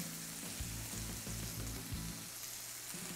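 Sliced bell peppers sauté in a hot pan with a steady close sizzle, broken by a few soft rhythmic stirring scrapes, and no voices.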